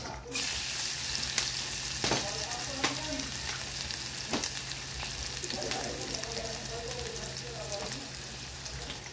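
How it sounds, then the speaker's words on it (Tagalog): Garlic sizzles steadily in hot cooking oil in a pan, a close, even crackle punctuated by scrapes and taps of a spatula stirring it. "Igisa natin ang ating garlic."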